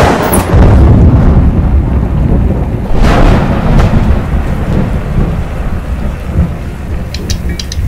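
Heavy thunder rolls and cracks during a rainstorm, loud and close, over steady pouring rain, with a few sharper booms along the way and no voices.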